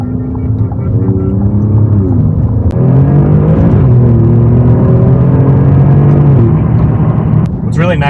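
An Alfa Romeo Giulia Quadrifoglio with an X-pipe exhaust and stock catalytic converters rumbles loudly, its engine note rising and falling through revs, with a voice speaking over it.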